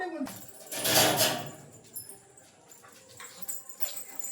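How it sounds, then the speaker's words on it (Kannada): A pet dog at home gives a brief whimpering burst near the start, followed by quieter sporadic sounds and faint rustling close by. "ಇದು ನಮ್ಮ ಮನೆ ನಾಯಿ"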